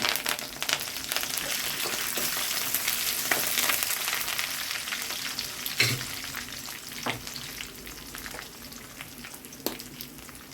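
Steady crackling sizzle of chana dal, urad dal, dried red chillies, curry leaves and garlic frying in hot oil, with occasional sharper pops and stirring clinks, continuous and close.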